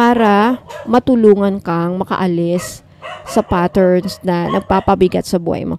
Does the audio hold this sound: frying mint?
no